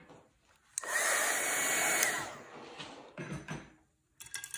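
A hair dryer blows on freshly painted chalkboard, switching on with a click into a loud, steady rushing whoosh for over a second, then cutting off, followed by faint handling clatter.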